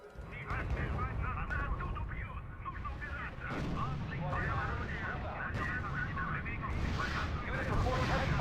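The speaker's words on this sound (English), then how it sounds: "Unit under sustained fire" Sustained heavy gunfire and artillery rumble from the strategy game R.U.S.E., a dense continuous barrage of low booms and crackling shots filling the whole stretch, with game voice announcements over it.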